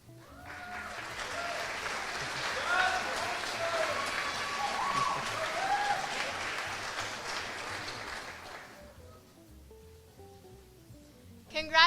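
A large audience at a 4-H state awards ceremony applauds scholarship winners with steady, dense clapping for about nine seconds before it fades out, after which a voice speaks over a quieter room.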